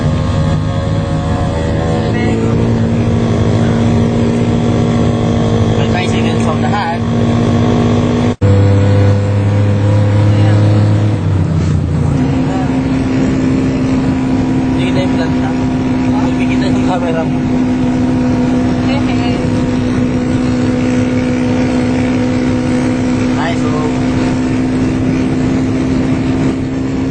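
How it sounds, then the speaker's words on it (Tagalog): A motorized tricycle runs on a road, its steady engine drone with a clear tonal hum holding throughout, the pitch shifting partway as it passes close by. "May tricycle."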